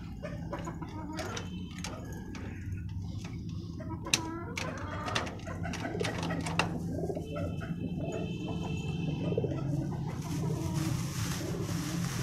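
Pigeons coo softly in a cage amid chicken clucks, rustling and occasional clicks, moderately close with a steady background.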